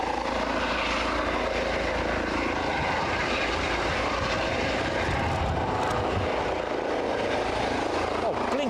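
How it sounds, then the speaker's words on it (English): A British Airways airliner on final approach into Aberdeen gives a steady, loud engine roar and whine that holds throughout. Faint talk sits beneath the drone. "British Airways on final approach."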